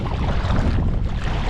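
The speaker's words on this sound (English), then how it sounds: "Oh, now it's windy." Steady wind rushes and buffets the microphone out on the water during a kayak fishing trip for largemouth bass, a loud, continuous roar with low rumble and faint lapping, no voices.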